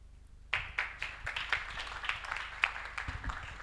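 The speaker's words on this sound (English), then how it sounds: "Can we have another round of applause, please?" A small group at a financial markets forum bursts into clapping that runs steadily for a few seconds, moderately loud and close, without any voices over it.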